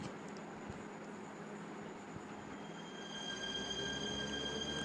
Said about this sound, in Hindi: अब आनी चाहिए ट्रेन पैरेलल रन के लिए